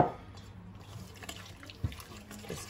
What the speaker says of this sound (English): Add the rest of my water.